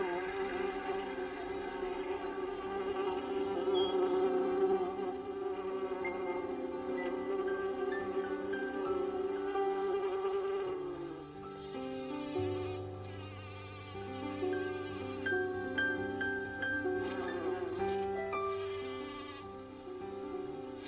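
Adult worker honeybees buzzing outside their hive, a continuous dense drone filling the whole stretch, with no speech heard.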